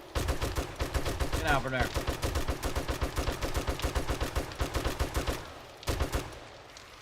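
Rapid automatic gunfire in 7 Days to Die, a dense run of close, loud shots firing steadily for several seconds, then a brief pause and a short final burst, with a voice speaking over the shooting.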